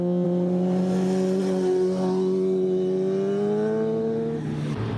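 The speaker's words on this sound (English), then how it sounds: "Here I believe is a Ferrari F430." A Ferrari F430 sports car engine drones steadily close by on Mulholland Highway, its pitch climbing slightly before it passes and fades near the end.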